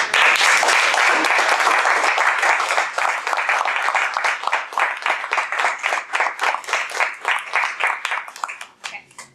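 An audience at a Toastmasters contest breaks into applause. Dense clapping at first thins into slower, separate claps before fading out.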